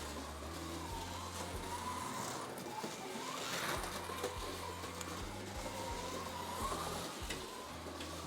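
A slot car fitted with a digital decoder chip runs on its track, a continuous whirring electric motor hum with periodic clicks as it passes track joints, steady and moderately loud for several seconds.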